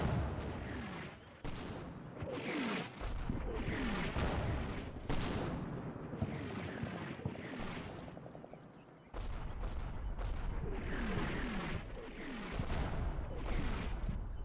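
Gunfire hits outposts in a realistic US Marine simulator video game: repeated sharp cracks and heavier booms scattered over continuous rattling fire, some bursts near and others distant, with no voices.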